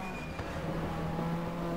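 Race car from the 1997 British Touring Car Championship video game, a Team Dynamics entry, engine droning steadily under sustained acceleration at close range, a continuous loud tone with faint tyre noise and no pauses.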